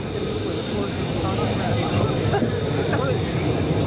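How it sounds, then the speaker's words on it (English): A Navy F-35C Lightning II jet flies past at an air display, a steady, loud broadband roar that fills the whole stretch, with crowd babble faintly underneath. "Tip Davis and the incredible F-35C, the next generation of flying Navy"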